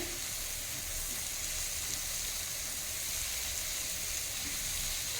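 Shrimp coated in spices fry in a hot pan, giving a steady, dense sizzle that holds constant and close throughout, with no talking.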